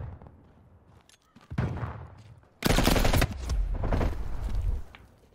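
Video game gunfire, with loud rapid automatic bursts that crackle in two close volleys before a sustained heavy stretch of shooting, all up front and dominating the mix.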